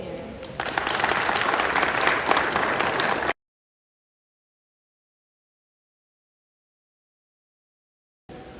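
A crowd at a 2024 PG Methodist graduation ceremony breaks into loud, dense applause for about three seconds, then abruptly falls silent before a brief return of sound at the end.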